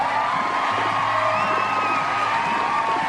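A crowd cheering and applause sound effect plays as a dense, continuous roar of voices and whoops at an even, fairly loud level from start to finish.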